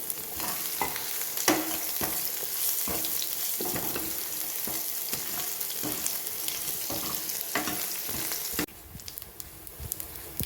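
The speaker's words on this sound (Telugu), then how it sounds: "1 స్పూన్ ఆవాలు, కొద్దిగా మెంతులు, కొద్దిగా కరివేపాకు, 2 ఎండుమిరపకాయలు, పచ్చగా దంచి పెట్టుకున్న వెల్లుల్లిపాయ. ఇప్పుడు దీన్ని బాగా ఫ్రై చేసుకోవాలి." Mustard seeds, fenugreek, curry leaves, dried red chillies and crushed garlic fry in oil as a tempering, a loud continuous sizzle with repeated spoon scrapes and clicks, easing slightly near the end.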